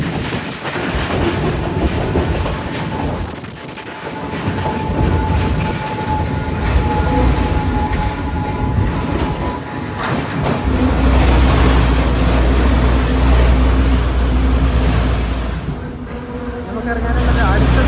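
A Sri Lanka Railways train on the coastal line from Colombo rumbles loudly and steadily from inside the carriage, with rail clatter, rattling and shaking and a low, sustained braking grind in the second half.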